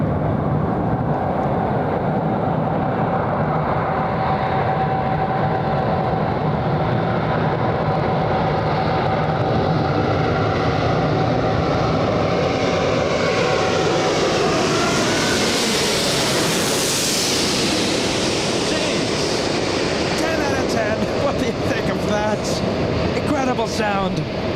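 A jet airliner takes off at LAX, a loud sustained roar with a rising whine that swells and sweeps past mid-clip, heard from a distance over steady background noise.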